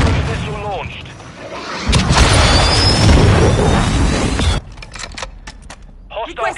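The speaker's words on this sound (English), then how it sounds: "Hostile cruise missile launched." A hostile cruise missile explodes in a military shooter video game, a loud sustained boom and rumbling blast lasting a few seconds, framed by radio-style voice callouts before and after.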